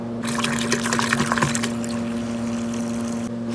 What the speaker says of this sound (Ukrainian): Розбавляю на весь полівізатор, заливаю водою